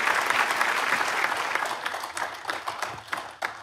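An audience at a televised poetry talent show bursts into loud, dense applause that gradually thins into scattered claps over a few seconds.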